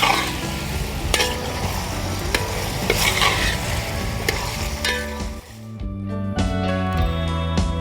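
Chicken perattu stir-roasting in a pan, Kerala style, with steady sizzling and frequent scraping stirs at close range; the frying quiets briefly near the end before resuming with a bright, sustained hiss.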